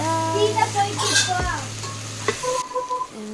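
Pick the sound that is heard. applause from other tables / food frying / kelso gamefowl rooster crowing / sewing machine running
food frying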